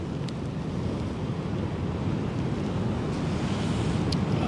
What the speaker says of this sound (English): Just listen to the sound of those waves.